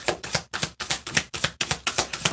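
Tarot cards being shuffled by hand, heard as about eight quick, even riffling bursts in a steady rhythm, close and fairly loud, with no talking.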